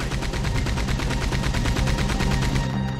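A mounted gun in the video game Red Dead Redemption 2 fires in a rapid, unbroken burst, with loud, evenly spaced reports repeating for about three seconds and no talking.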